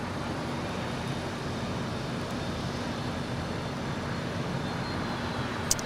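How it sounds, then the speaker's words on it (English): A Qantas Airbus A380 taxis toward a hangar on the far west side of Los Angeles International Airport, giving a steady distant engine drone with a faint constant hum and no talk. "A380 now 290 making her way over to the Qantas hangar on the far west side"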